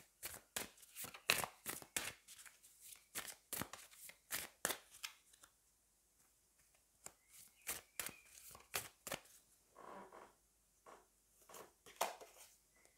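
Tarot oracle cards are shuffled and drawn at close range: rapid soft riffles, flicks and slaps in an uneven rhythm, faint and quiet with no talking.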